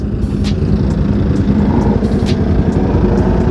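A loud Suzuki Satria FU motorcycle with an aftermarket exhaust idles with a deep, throbbing exhaust burble, close by and steady, with a few faint clicks above it.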